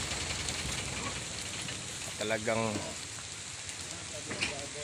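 Steady rain hisses across the whole clip, with a brief burst of a voice partway through and faint movement noises underneath.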